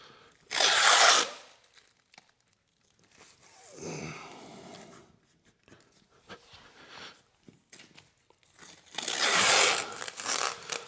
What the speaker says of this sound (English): it's masking tape with plastic attached. So you pop it on there like that